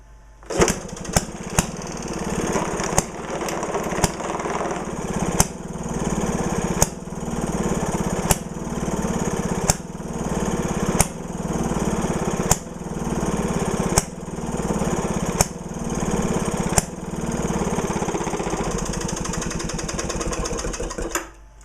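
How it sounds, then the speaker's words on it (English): An old flywheel engine runs steadily, with a continuous low chugging hum punctuated by sharp, evenly spaced firing bangs roughly every second and a half, loud and close, with no talk. "So, like I said, this is a ridiculously reliable engine."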